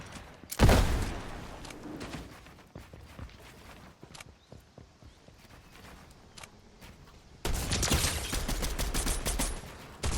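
In Fortnite, an MK machine gun fires in rapid, dense bursts, with a sharp volley near the start and a longer sustained stream of shots near the end, separated by quieter footsteps and scattered single reports.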